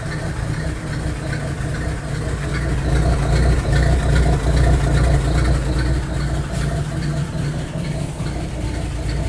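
A Ford inline-six engine runs in a garage, its loud, close, steady low idle rumbling throughout with slight swells in level.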